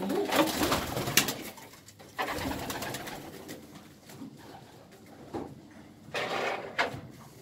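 Young pigeons coo repeatedly nearby in soft throaty bursts in a loft, with occasional fluttering and knocking sounds in an enclosed space.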